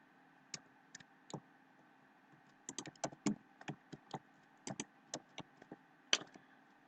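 Keys on a computer keyboard are tapped in quiet, close clicks. They start as a few scattered strokes and then run into a faster, uneven burst of typing.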